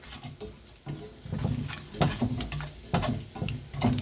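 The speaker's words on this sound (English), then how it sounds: "Throw in some jalapenos. Maybe a little more. And stir." Jalapenos being stirred into a sticky glaze in a cooking pan, giving repeated wet scraping and patter strokes with a soft sizzle underneath, close and moderately loud.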